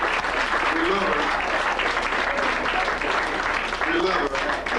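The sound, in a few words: audience applause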